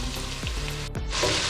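Onions fry in a pan with a steady close sizzle while a spoon stirs them, giving a couple of brief scraping strokes.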